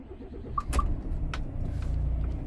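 A truck engine turns over and starts, a short starter burst followed by a low, steady rumble of the idling diesel, heard close up with faint outdoor background.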